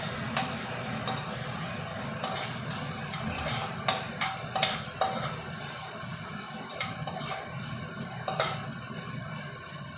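Masala spices frying in a pan for a Kolkata egg omelette curry, a close steady sizzle with repeated scraping and clinking of a spatula stirring against the metal, no voices.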